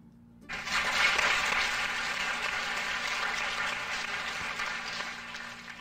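A congregation gives a brief round of applause for a church community newly made a parish. It starts abruptly and holds as a dense, steady, moderately soft patter with no voices over it.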